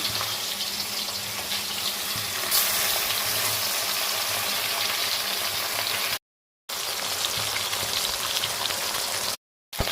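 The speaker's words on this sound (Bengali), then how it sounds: "তেলটা প্রায় গরম হয়ে গেছে, দেখো মাথাটা দিয়ে দিয়েছি। এক এক করে সব মাছ দিয়ে দিচ্ছি।" Dense, continuous sizzling and spattering of fish frying in hot oil, close up, with two brief dropouts.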